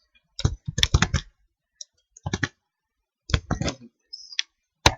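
Bursts of clicky keystrokes on a computer keyboard while code is typed for a Laravel 5.4 controller and view, coming in short irregular clusters separated by pauses, close and fairly crisp with no talking.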